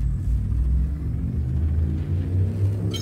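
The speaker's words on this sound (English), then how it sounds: "Frameshift drive charging." Frame shift drive charging in the space game Elite Dangerous, a loud, steady low rumble with a throbbing drone that holds throughout, with a brighter flutter rising at the very end.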